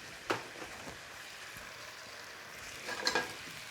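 Salmon sizzling in a pan, a soft continuous frying hiss with a couple of sharper crackles and spits near the start and end, close and fairly quiet with no talking.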